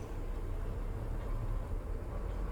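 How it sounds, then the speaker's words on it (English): Train in the Satisfactory video game, heard as a steady low rumble with broadband noise running continuously and evenly throughout, with no voices over it. "Alright, there's the train."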